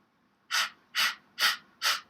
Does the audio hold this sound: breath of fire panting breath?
yes